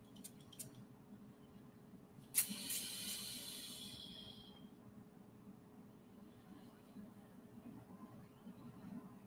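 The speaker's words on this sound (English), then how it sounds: "which is a soothing spray for anxiety" A handheld spray bottle mists a soothing essential oil spray in one sharp hissing burst that trails off over about two seconds, close and clear above a quiet, low room hum.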